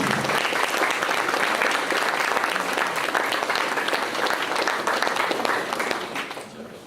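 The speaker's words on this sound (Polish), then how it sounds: "poproszę o szczególne oklaski" Audience applauding at a photography contest award ceremony and exhibition opening in Częstochowa, a steady, dense burst of clapping from a full room that holds evenly for several seconds before tapering off at the end.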